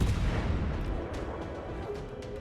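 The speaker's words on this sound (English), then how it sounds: "we definitely need to fire at the Nagato since she is firing at us." Naval gunfire from battleships in World of Warships, a heavy low boom and rumble that fills the short stretch and fades slowly, with no voices.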